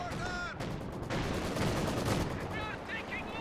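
A tank cannon shot in Company of Heroes 2, a booming blast in the midst of continuous battle noise of gunfire and explosions, with a commentator talking over it.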